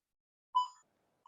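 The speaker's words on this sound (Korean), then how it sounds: "거리가 가까워지자 알람이 울리고 피항법까지 제시되는 것을 볼 수 있습니다" A collision alarm in a ship navigation simulator gives one short, clear electronic beep, then a second brief beep starts a moment later against silence.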